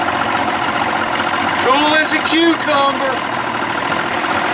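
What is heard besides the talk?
outboard boat engine idling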